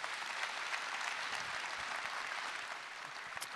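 Steady applause from a seated audience at a public round-table meeting, an even wash of clapping from start to end.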